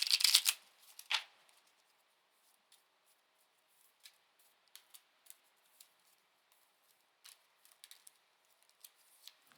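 Angel of Abundance oracle cards being shuffled by hand, a loud burst of riffling at the start and another near one second, then sparse faint card taps and flicks alone.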